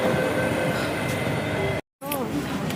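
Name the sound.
Bangalore metro train at a station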